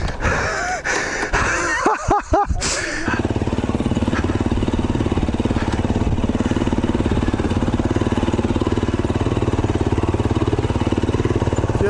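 A KTM 350XC-F enduro motorcycle engine runs at a steady, close, buzzing idle after a few seconds of gusty rustling and breathy noise at the start.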